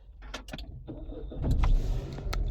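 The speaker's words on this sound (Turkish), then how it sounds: "Anahtarsız çalıştırma var. Bakın basıyorum frene." A used automatic B-segment hatchback's engine, started with keyless push-button start while pressing the brake, cranks and catches after a few clicks and a brief electric whir, then settles into a low idle close by.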